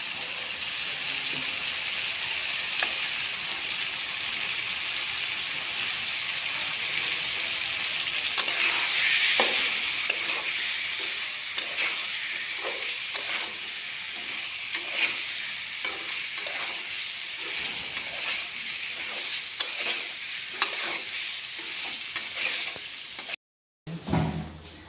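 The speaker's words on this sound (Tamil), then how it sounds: "உருளைக்கிழங்கு கூட ஃப்ரை பண்ணி வச்சுக்கிறாங்க மக்களே." Potatoes fry in a hot pan with a loud, constant sizzle while a utensil scrapes and stirs in repeated strokes, running without pause until a brief break at the very end.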